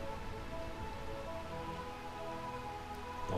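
Steady rain in Promethea, the realm of eternal rain in the Final Fantasy IX video game, a constant dense hiss that runs unbroken beneath tonal background music.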